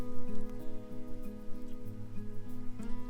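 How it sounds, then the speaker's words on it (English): Light rain patters steadily on surfaces in a vegetable garden, a soft continuous spatter sitting under a low steady hum. "It's raining a little bit harder now"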